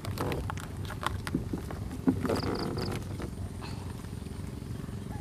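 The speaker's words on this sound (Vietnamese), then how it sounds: "Cái tiếng máy chạy bên kinh nhỏ bên kia" A boat engine drones faintly and steadily from a small canal nearby in the Cà Mau countryside, under light wind and a few close knocks and handling noises.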